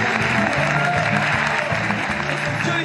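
A television audience applauds steadily for Tito on Los Roldán in 2005, dense clapping filling the whole stretch at an even, loud level.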